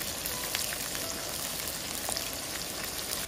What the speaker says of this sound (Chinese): 油温烧热，我们准备的这些调料放进去